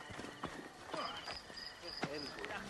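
Horse hooves clip-clop on hard ground in Assassin's Creed Origins, in quick uneven bursts alongside faint game ambience and brief voices.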